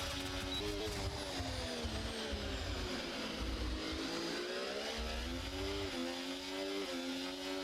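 Race cars in a racing video game on the Austin circuit, one pushing past another. Engine tones rise and fall steadily and overlap, with a faint, distant, continuous whine throughout.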